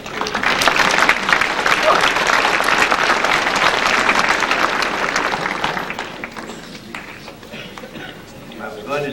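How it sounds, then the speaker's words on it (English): Dinner guests at a Rouses Point event with Governor George Pataki applaud a congressman, a loud sustained burst of many hands clapping that gradually fades out over the last few seconds. "let's have a round of applause for our great Congressman, John McHugh."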